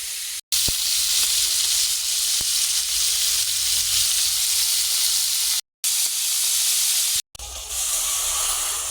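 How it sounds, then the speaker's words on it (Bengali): Onion, garlic, ginger paste with ground coriander and cumin sizzling steadily in hot oil, a loud continuous hiss broken by a few brief silent gaps. "এখানে দিয়েছি পেঁয়াজ রসুন আদা বাটা আর ধনে জিরে গুঁড়ো মশলাটা ভালো করে কষে নিচ্ছি"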